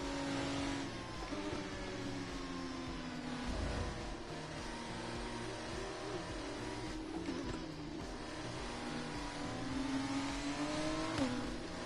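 Formula 1 car engine in the F1 24 racing game, a continuous high-pitched whine rising and falling as the car accelerates and shifts through gears on a warm-up lap, steady and close with no talking.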